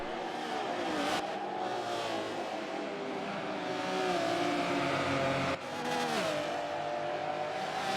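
Race cars scream at wide open throttle in the Forza racing game, a dense, continuous engine roar with gliding pitch shifts as they run flat out down a long straight, loud and unbroken.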